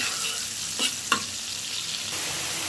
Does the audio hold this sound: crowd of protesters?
no